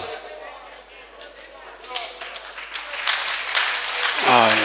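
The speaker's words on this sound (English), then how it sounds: "Give him a mighty hand clap of him" Church audience clapping during a sermon given in English and Swahili, scattered claps building into louder applause, with a preacher speaking over it.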